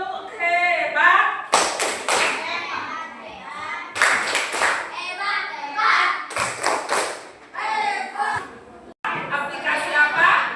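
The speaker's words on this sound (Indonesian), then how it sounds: "Tepuk hebat." A classroom of children claps together in a few short, rhythmic bursts of loud, close hand claps, separated by a teacher and pupils talking.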